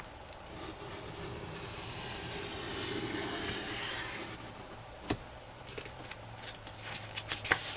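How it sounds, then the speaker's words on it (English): A craft blade slices out a page from a paper summer picnic journal, a quiet steady scraping and rustle near the mic, ending in a few short sharp ticks and paper taps. "I'm going to cut it out if the blade works."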